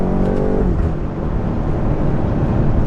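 A stock BMW X6M SUV weighing over two tons accelerates hard under a loud, steady engine roar, with a rising gear-driven whine early on and a continuous rumble throughout.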